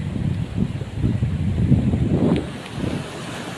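Sea waves surge in low, rolling rumbles along a shore where boats are moored, loud and near, partly buried under gusting wind buffeting the microphone.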